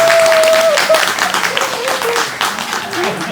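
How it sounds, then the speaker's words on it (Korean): An audience at a K League 40th-anniversary talk concert applauds to welcome guests on stage, with sustained clapping under a steady tone and a voice talking over it. "여러분 박수로 모셔보겠습니다."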